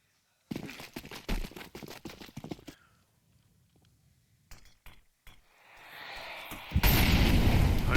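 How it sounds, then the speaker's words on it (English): Grenade explosion in the video game Counter-Strike, a sharp loud blast near the end after a burst of rapid gunfire clicks and a quieter interlude. "Nade finds good damage"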